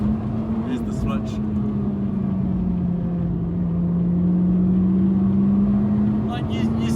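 Honda Integra DC5 Type R engine held at high revs into its VTEC range, a steady loud drone with a slowly shifting pitch, heard from inside the car with people talking over it.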